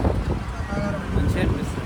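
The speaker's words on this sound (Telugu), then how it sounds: "ఇవన్నీ ఓపెన్ ఉంటాయి, మంచిగా గాలి వస్తుంది" Wind rushes steadily through the open sides of a moving auto rickshaw, a constant broadband roar close to the microphone.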